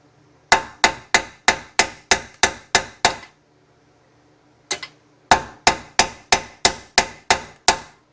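Sharp metallic hammer blows drive a rear wheel bearing into a 2005-2014 Ford Mustang in a steady rapid series, pause briefly with one lone hit, then resume; loud and close with no talking.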